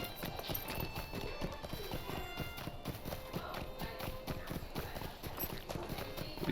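Horse hooves gallop in a steady, rapid clip-clop rhythm as a mount rides across the land in the online game The Lord of the Rings Online, with muffled background voices and ambient game music underneath.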